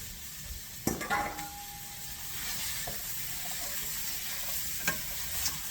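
Vegetables are thrown into hot oil with seasonings for shrimp curry, then sizzle steadily while a utensil stirs and clinks against the pan, with a few sharp knocks up close.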